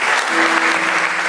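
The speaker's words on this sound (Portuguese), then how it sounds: "Então aplauda o Senhor" Congregation applauding during a church service, steady dense clapping from many hands throughout, loud and close with no break.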